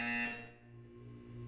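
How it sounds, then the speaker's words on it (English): Buzzer sounding in the video game Portal 2, a loud sustained electronic tone that cuts off after a fraction of a second and leaves a low steady hum. "When you hear the buzzer, look down at the floor."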